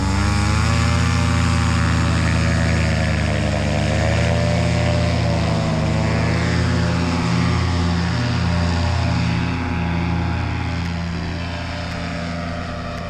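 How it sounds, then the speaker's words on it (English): Small aircraft engine and propeller at full power during takeoff, a loud steady droning roar with strong harmonic hum throughout, slightly fading toward the end. "That was a good takeoff."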